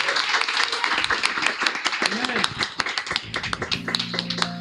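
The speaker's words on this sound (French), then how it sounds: "On acclame le Seigneur." Evangelical church congregation clapping to acclaim the Lord, a dense run of sharp hand claps layered with voices, ending as a sustained musical tone enters.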